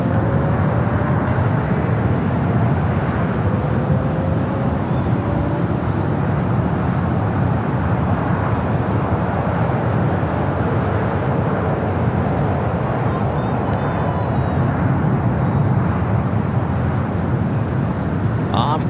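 Delta 938 Heavy, an airliner, rolls for takeoff on runway 24 left at LAX, heard as a broad, steady jet roar spread across the full length, moderately distant, with faint radio chatter mixed in.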